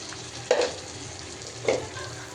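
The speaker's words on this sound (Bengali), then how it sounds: "এখানে আমি পেঁয়াজ দিয়ে দিলাম, তো টমেটো দিয়ে দিলাম।" Onion and tomato dropped into hot oil in a pan, a steady close sizzle with two sharp bursts of frying as each goes in, no talk.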